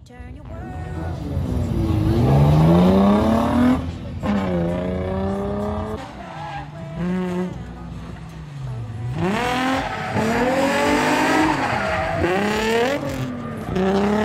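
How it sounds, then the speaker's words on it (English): Cars drifting at a JDM and Michigan drift event, loud revving engines with swooping pitch and squealing tires, continuous and close, with voices faintly underneath. "Let's go watch some drifting."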